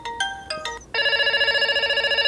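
Ringtone of a Lenovo K3 Note smartphone: a few short electronic tones, then a steady, bright melodic ring that carries on loudly and close, with no talk over it.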